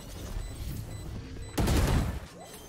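Gunfire in Valorant, a sudden loud burst of shots cutting in after quieter game ambience and lasting under a second before dropping away.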